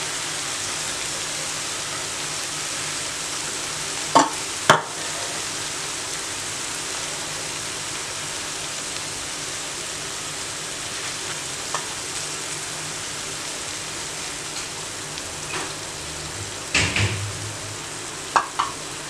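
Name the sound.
eggs frying on a tawa for an omelette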